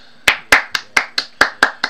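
Eight slow, deliberate hand claps spaced evenly about a quarter second apart, crisp and close with short decays, a sarcastic golf clap during half-time talk about a Doncaster versus AFC Wimbledon match.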